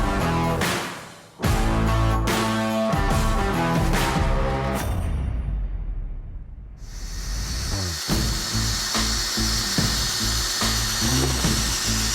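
A scimitar guard chucked up and spun in a power tool whines loudly as its ball ends are polished, the high-pitched spinning broken by short pauses and restarts, with no speech.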